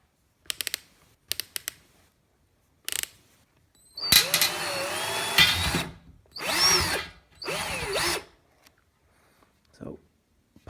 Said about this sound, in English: I only have a 6mm thick drill bit, so I'm gonna have to use a step drill a little bit